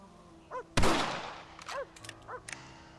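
A rifle fires one loud, sharp shot that booms and decays over about a second, with a few faint barks from a dog before and after.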